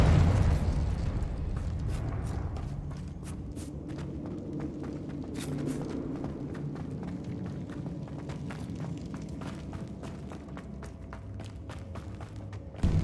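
A Confringo spell explosion in Hogwarts Legacy opens with a heavy, loud burst, then fades into a rumbling tail with scattered crackles and scuffling steps, ending with another thump.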